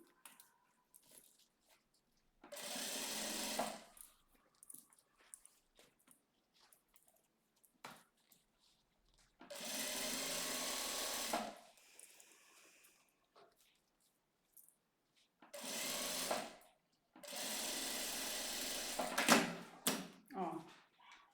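A sewing machine stitches fabric for a topstitched seam on a cosmetic case, running in four separate steady buzzing bursts of a second or two each, with pauses and someone speaking between them.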